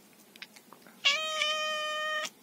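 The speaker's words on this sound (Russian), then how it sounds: "А вот наш кот." A cat in a garden lets out a single drawn-out meow lasting about a second, loud and close, after a few quiet rustles.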